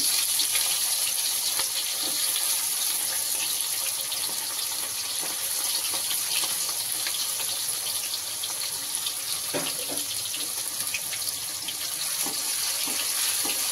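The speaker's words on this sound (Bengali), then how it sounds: "কেটে রাখা পেঁয়াজ দিয়ে দিচ্ছি ভাজার জন্য" Chopped onions frying in a pan for a fish kosha curry give a steady, dense hiss that runs unbroken throughout, with occasional faint clicks of stirring and no voices.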